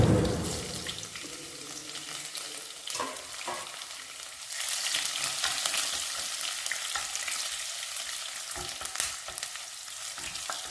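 Garlic fries in hot oil in a pan, a dense crackling sizzle with stirring scrapes, growing louder and busier midway and staying close and continuous, no voices.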